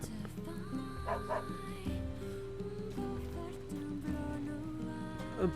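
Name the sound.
dog barking in the video game NieR Replicant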